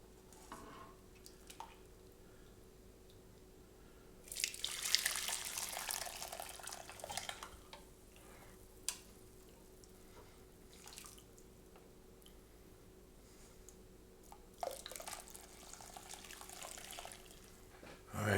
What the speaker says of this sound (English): I'm pouring everything through.